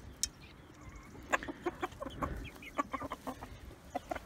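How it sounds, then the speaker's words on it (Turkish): Several Sultan roosters, including splash and black birds, cluck in a coop with repeated short, fairly near calls over a steady farmyard background, with no talking. "Bakınız bu splash horoz, yine o da splash horoz"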